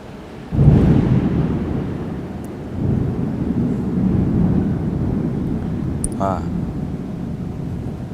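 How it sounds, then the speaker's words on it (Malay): Heavy rain pours steadily with a low thunder rumble rolling in early, a dense, loud wash of noise that continues to the end. "lebat benar hujan ni"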